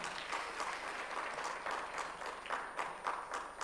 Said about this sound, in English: let's clap for him a little louder